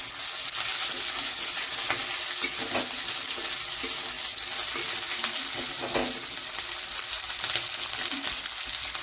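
Cauliflower florets and green chillies sizzle steadily in a hot oiled pan, with repeated scraping stirs from a spatula breaking through the constant frying hiss.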